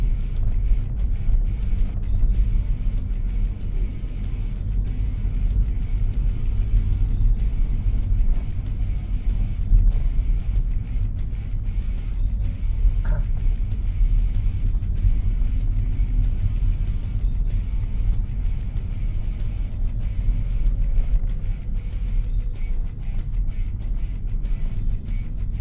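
A manual car being driven during a driving lesson, its engine a steady low drone with road rumble for the whole stretch; no clear gearshift stands out, and no one talks.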